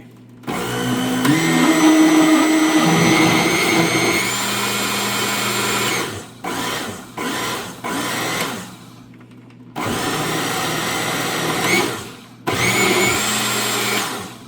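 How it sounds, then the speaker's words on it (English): A blender whirs loudly in several bursts blending noodles, the motor pitch shifting as it runs, pausing briefly between pulses before starting up again. "My blender does not like this."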